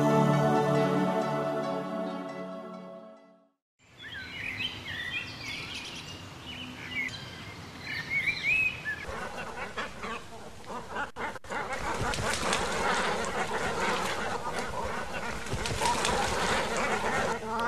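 Waterfowl call at a lagoon in the Ruidera wetlands, with duck-like quacks and goose-like honks layered over steady outdoor ambience. A mix of bird calls continues throughout.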